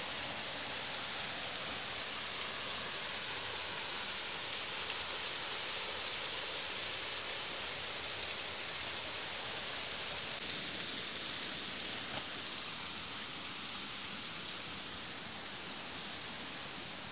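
A steady, broad rush of falling water roars without pause, dense and continuous, from a nearby mountain waterfall in northern Laos.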